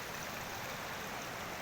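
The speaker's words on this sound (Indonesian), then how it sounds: "sungai mengalir sampai jauh, bro." River rushing past a campground at Sisi Cai camping ground, a steady, full wash of flowing water that stays constant throughout, with no voices.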